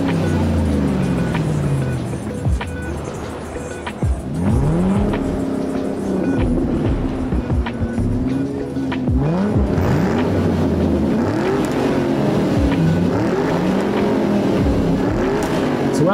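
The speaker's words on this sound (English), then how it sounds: "And of course, muscle cars everywhere because it is the Motor City." Muscle cars driving through the streets of Detroit, with a steady, loud stretch of engine noise, revving and passing traffic, plus some harmonic sweeps and short screeches, and faint voices now and then.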